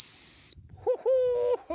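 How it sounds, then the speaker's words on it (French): A sharp, high whistle blast calls back a German Shepherd dog, followed by shorter, lower whistled tones nearby; brief rustling sits between the blasts. "on va faire les rappels au sifflet"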